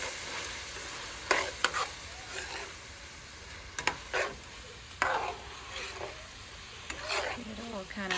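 Taco meat with taco seasoning sizzles softly in a pan while a spoon scrapes and stirs it in irregular strokes, nearby but fairly quiet, with a brief voice in the background.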